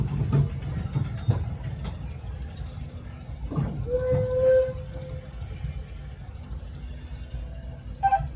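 Disneyland Railroad train at Disneyland Park, California, rumbling low and steady on the rails at close range, with a brief tonal whine mid-way and faint high squeals, under quiet surrounding chatter.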